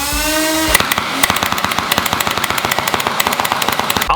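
A Nerf turret blaster with a 200 round hopper spins up with a rising whir, then fires balls in a rapid, loud, steady stream of pops close by.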